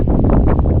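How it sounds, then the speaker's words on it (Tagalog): Wind gusting outdoors during heavy rain, a steady close rumble buffeting the microphone for under a second. "Ito hangin."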